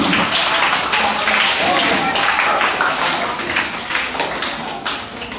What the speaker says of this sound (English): Give Riley a round of applause.